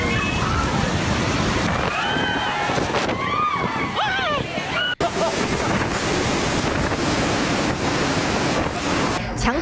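Strong typhoon wind roars along a city street, a loud continuous buffeting rush across the microphone with gusty surges, and a few voices and shouts come through over the noise.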